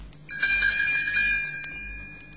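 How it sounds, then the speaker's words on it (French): A bright shimmer of small tinkling bells, as Tinker Bell's bells, rings out clearly, then fades into a lingering chime, alone without any voices. "vous entendrez la fée Clochette faire tinter ses petites cloches, comme ceci"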